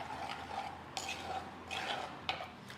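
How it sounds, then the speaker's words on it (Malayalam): A spoon stirs curd into a dish while cooking Onam sadhya, giving soft scraping and clinking against the pot in a steady rhythm, close and moderately quiet. "തൈര് കൂടി ചേർത്ത് നന്നായി ഒന്ന് മിക്സ് ചെയ്തിട്ടെടുക്കാം."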